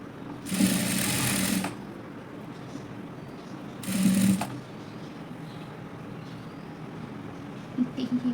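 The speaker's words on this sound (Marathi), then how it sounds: "असं एक साईडचं शिवून झाल्यानंतर त्याच्यावर डबल शिलाई मारून घ्यायची" Sewing machine stitching a double seam on a frill sleeve, running in two loud, close bursts of about a second each, with quiet gaps between them and light background noise.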